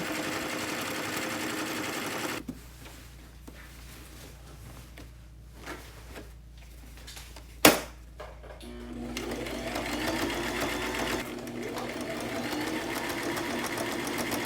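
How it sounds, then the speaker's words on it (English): A sewing machine stitching embellished pieces onto thrifted clothing: a close, steady mechanical whir that runs, pauses briefly with a sharp knock, then carries on in longer sewing runs. "So now it's just time to sew it on."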